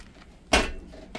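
The door of a waste oil heater is shut with a single sharp metallic clank that decays quickly, nearby and alone against faint background noise.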